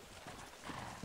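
Horse hooves clip-clopping in the video game Red Dead Redemption: short, fairly quiet hoof beats with a faint whinny near the end, without speech over it.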